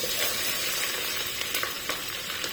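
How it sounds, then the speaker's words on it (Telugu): A steady, close sizzle of sliced onions and green chillies frying in hot oil until golden, with occasional light pops and stirring sounds. "గోల్డెన్ కలర్ వచ్చేలాగా ఫ్రై చేయాలి"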